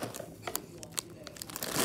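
Scissors snip and crinkle through a Cheetos snack bag, a series of short sharp crackling cuts close up at moderate volume, with light rustling between them.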